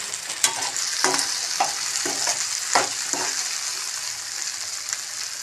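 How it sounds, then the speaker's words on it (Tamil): Turkey berries (sundakkai) frying in a pan give a steady loud hiss, with a series of spatula scrapes and taps in the first half, up close and without speech. "இப்போ இந்த சுண்டைக்காய்லாம் வதங்கிடுச்சு"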